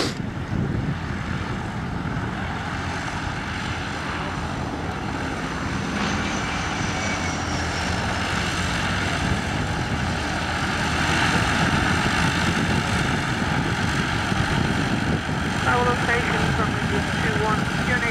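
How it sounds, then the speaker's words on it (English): A light propeller aircraft departs from Sywell airfield during a light-aircraft rally, its engine droning steadily and fairly loud throughout, with faint radio-style talk and background chatter underneath. "Departing aircraft."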